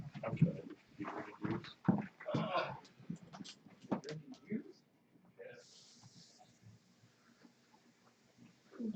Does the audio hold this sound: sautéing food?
no